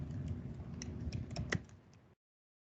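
Quiet, rapid keystrokes on a computer keyboard patter continuously for about two seconds, then stop into silence.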